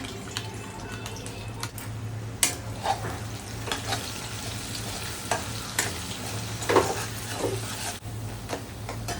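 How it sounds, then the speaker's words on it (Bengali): Ground spice mix with dried red chillies frying in hot oil over low gas, a continuous close sizzle with scattered stirring scrapes and light clinks, and no one talking. "মশলাটা ভাজা ভাজা হচ্ছে"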